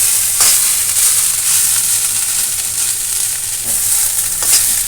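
Banana stem (thor) frying in a pan, a loud continuous bright sizzle close by, with a few soft stirring swishes and no voices.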